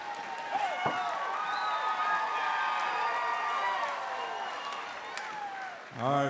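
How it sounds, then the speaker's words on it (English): A crowd at a Summit Fighting Championships MMA event roars, with sustained cheering voices and a whistle over a bed of clapping, loud and continuous, and the din swells again at the end. "let's give one more round of applause for that fight"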